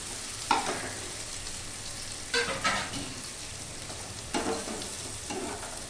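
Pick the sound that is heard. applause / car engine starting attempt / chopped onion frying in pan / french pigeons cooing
chopped onion frying in pan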